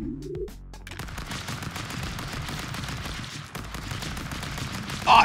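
Rapid, continuous machine gun fire in the video game Stick Fight, a dense rattling stream that begins after a brief sound effect and runs steadily to the end.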